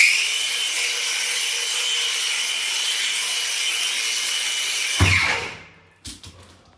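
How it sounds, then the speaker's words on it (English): A Biturbo brushless angle grinder runs with a high, steady whine, then hits the floor with a thump and instantly spins down to silence, followed by a couple of rattling knocks. "Instantly, the grinder shut off by itself."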